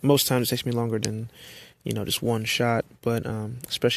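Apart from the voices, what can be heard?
No distinct noise like a dog, phone or traffic.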